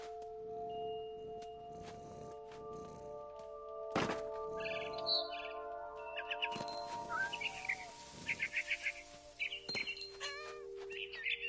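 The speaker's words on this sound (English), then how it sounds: "Then I heard chirping outside my window. It was a barn swallow going back to her nest." A barn swallow chirps in a video game scene, with short bright tweets and trills clustering in the second half over steady background music and a sharp thunk partway through.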